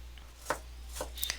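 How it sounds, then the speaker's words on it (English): A knife finely chops white onions for bluefin trevally poke on a cutting board, four crisp close taps at an uneven pace over a low steady hum, with no voices. "now what I'm doing is I'm chopping up some white onions"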